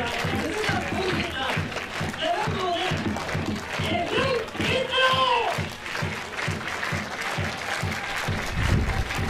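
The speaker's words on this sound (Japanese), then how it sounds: "大きな拍手が送られております。" Sustained applause from a large stadium crowd at a Japanese football league match fills the space steadily after a penalty goal, while someone commentates excitedly over it.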